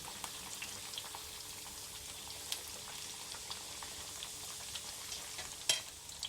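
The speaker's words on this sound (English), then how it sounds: "Turn the slices over a few times while frying." Gentle, steady sizzling of prawn and vegetable tempura frying in oil, with faint crackles and pops and one brief louder clink near the end.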